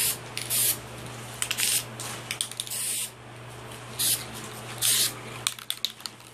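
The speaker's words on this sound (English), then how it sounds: "And then you're going to do another test spray." A spray paint can hisses in a series of short bursts of uneven length, applying light coats to a legacy movie morpher prop, with a faint steady hum underneath.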